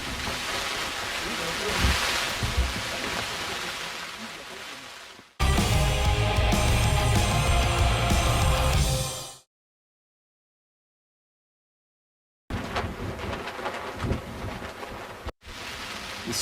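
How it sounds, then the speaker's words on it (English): Pouring rain and gusting wind batter a tent on a mountaintop during a thunderstorm, a loud, dense roar broken by abrupt cuts and one long silent gap. "It's pouring down right now. The wind is battering this tent, and I hope it holds together."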